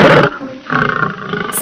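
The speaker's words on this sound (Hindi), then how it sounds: "अब शेर भेड़िए पर हमला करता है।" A cartoon lion roars loudly and fiercely as it attacks a wolf, a harsh burst followed by a rumbling, pulsing growl close up.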